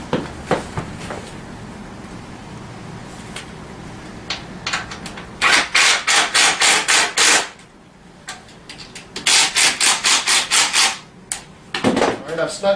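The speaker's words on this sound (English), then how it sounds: "I'm going to go ahead and snug up the rest of my front fender." Bolts on the front fender of a Tao Tao CY50D scooter are snugged up with a ratchet, making bursts of rapid clicking strokes in quick runs, close and loud, separated by brief pauses.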